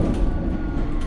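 A London Underground train at Baker Street station gives a steady low rumble with faint rail clatter, loud and continuous for the whole moment.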